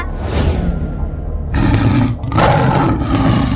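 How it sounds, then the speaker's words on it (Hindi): A cartoon lion roars again, starting with a fading growl, then two strong, close roaring bursts separated by a short gap. "फिर से शेर की दहाड़ने की आवाज आई।"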